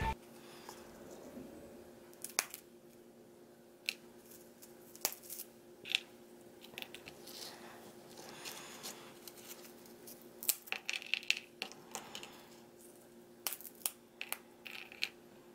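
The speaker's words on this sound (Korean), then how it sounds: "자 먼저 뿌신 소리 들려드릴게요" Homemade giant shrimp chips being crushed by hand, heard as faint, scattered crackles and crunches, close and quiet, over a low steady background hum.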